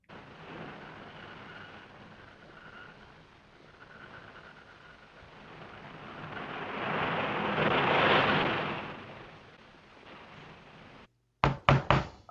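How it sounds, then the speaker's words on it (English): Several quick, sharp knocks on a door sound in a rapid cluster at the very end, after a long stretch of soft, wind-like rushing noise, at a Halloween horror show. "We hear somebody knocking on the door."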